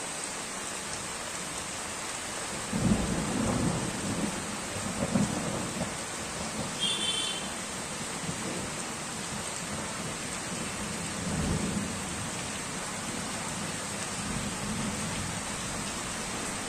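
Rain falls steadily on a tin roof throughout while low thunder rumbles a few times in the background, the loudest roll near the start and another later on.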